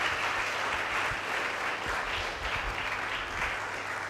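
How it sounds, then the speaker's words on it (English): An audience at a lecture and conversation event claps steadily for about four seconds, a dense, even wash of applause with no voices over it. "Let's give him another round of applause."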